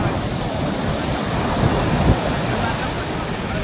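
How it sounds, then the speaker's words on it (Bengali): Sea waves wash up on the beach at Puri in a steady, loud rush of surf, with wind buffeting the microphone and a slightly stronger surge near the middle. "আবার লিখলো রাম, এবার অনেকটা আগে লিখেছে, যতদূর জল আসছে দেখি মোছে কিনা।"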